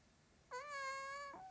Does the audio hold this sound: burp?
no